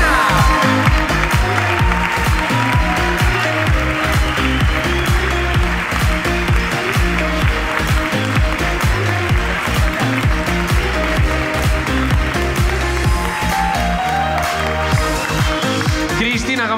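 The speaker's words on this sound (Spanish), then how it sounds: "un aplauso para Cristina" A live comedy podcast audience applauds a guest called up from the crowd, a sustained loud burst of clapping with voices mixed into it throughout.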